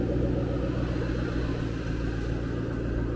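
A 700-horsepower Dodge Challenger Hellcat's engine rumbles steadily and loudly at close range, a dense low drone holding throughout with no speech.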